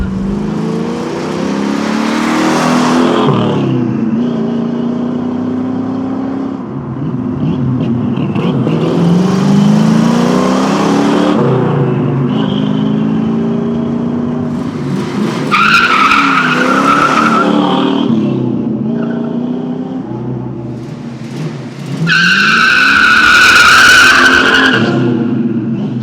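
American Dodge Charger with a 7.2-litre V8, revved and accelerating hard with screeching tyres; several loud surging engine roars rise and fall across the stretch, with sharp squeal in the later bursts.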